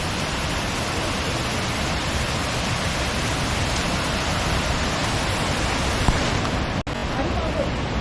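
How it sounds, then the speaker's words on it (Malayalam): Water pours steadily down from one side of a stream near a waterfall in Vattavada, Munnar, a dense, continuous rushing roar close by with no break. "ആ സൈഡിൽ നിന്നാണ് വെള്ളം വരുന്നത് കേട്ടോ."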